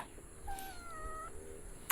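A cat at a house in a Karen village in Thailand gives a short, clear meow, a single rising-and-falling call close by with no talk over it.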